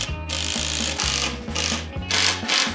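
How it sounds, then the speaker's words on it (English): A handsaw cuts through wood for a homemade go-kart frame in about five steady back-and-forth strokes, each a bright rasping burst, heard close and over a bed of background music. "this handsaw literally takes forever to cut all the way."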